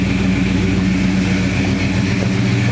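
A 1968 Dodge Charger V8 idles steadily with a low, even rumble, close and loud throughout with no voices.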